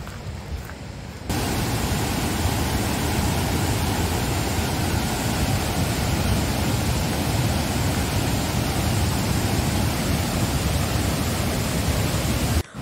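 Zillie Falls in the Atherton Tablelands pours with a constant broadband roar, steady and fairly loud from a nearby viewing platform, starting abruptly after a quieter second and holding unchanged to the end.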